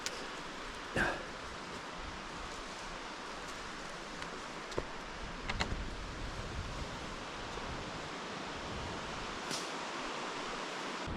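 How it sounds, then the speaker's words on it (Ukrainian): Steady broadband rushing of flowing water from a mountain river close by, with a few brief knocks and rustles over the continuous roar. "Річка неподалеко шуміть."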